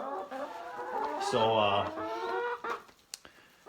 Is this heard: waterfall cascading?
no